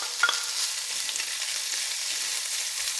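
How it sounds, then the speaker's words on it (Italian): Pancetta browning in extra-virgin olive oil with a garlic clove in a frying pan, a loud, dense, continuous sizzle close up with a brief clink of stirring near the start, no talking. "Aggiungo la pancetta, la faccio rosolare appena."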